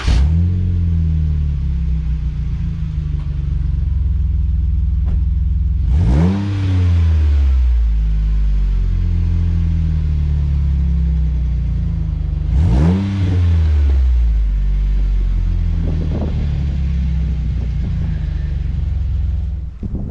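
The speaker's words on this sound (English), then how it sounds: "Now let's listen to the AFE MACH power with an extra resonator." A Jeep Wrangler JK engine running through an AFE MACH Force-Xp exhaust with an extra resonator holds a deep, steady rumbling idle broken by two quick revs that rise and fall back, with no talk.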